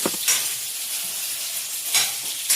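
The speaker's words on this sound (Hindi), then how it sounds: "यहाँ पे बन रही है चाउमीन।" Chowmein noodles stir-fried in a pan, a constant hissing sizzle with a few sharp scraping stirs near the start, middle and end, close and clear, with no talking.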